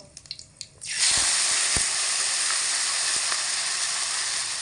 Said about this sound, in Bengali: এবার দিয়ে দেব দুটো কুচি করে রাখা টমেটো